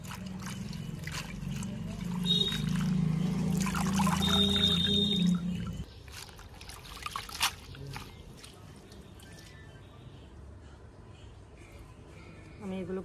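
Aloe vera leaves rinsed under running water, a steady trickle and pour for about six seconds that stops abruptly, followed by quieter handling noises and light clatter.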